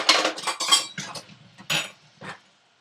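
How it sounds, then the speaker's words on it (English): Metal clinks and clatter as a pot of clam stock is set back on a stovetop, several short bright knocks and scrapes over a few seconds, then quiet. "I'm going to go ahead and put the clam stock back on the stove"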